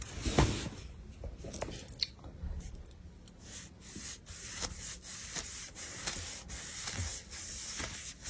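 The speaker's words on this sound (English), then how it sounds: "So let's get painting the paneling that we've put up." A bristle-free brush spreads thick, fast-drying paint across newly fitted wall paneling, giving a run of soft, repeated rubbing strokes with brief swishing bursts, fairly close and steady, with no talking.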